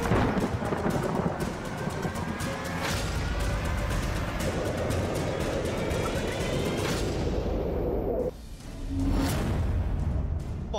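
Torrential monsoon rain pours down in Lalitpur, Uttar Pradesh, a loud dense roar with heavy rumbling thunder running throughout and a brief lull before it surges back.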